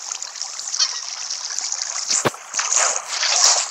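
Steady flowing water in the game Minecraft, a continuous hissing trickle with small splashy bursts, fairly close and alone throughout.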